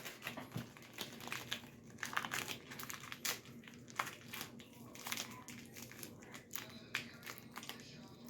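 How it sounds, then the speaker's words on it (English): Masking tape is pulled and handled up close while being wrapped into a sculpted shape, producing soft crinkles, taps and sticky rustles in an irregular stream that stays faint throughout. "Gonna get more tape. Sticky side out."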